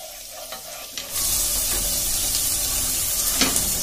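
Garlic hits melted fat in a pan at about one second and sizzles loudly and steadily, with stirring scrapes running through the frying for the rest of the moment, no voices.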